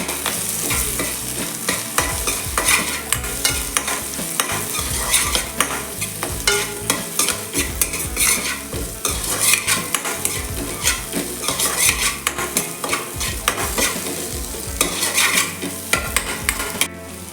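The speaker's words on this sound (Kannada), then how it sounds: "ಕರಿಬೇವು ಹಾಕಬೇಕು. ಫ್ರೈ ಮಾಡಬೇಕು." Curry leaves fry and sizzle in a pan for a Mangalore-style mushroom sambar, with constant crackling and a busy, repeated scrape and clatter of a spoon stirring against the metal, close and loud throughout.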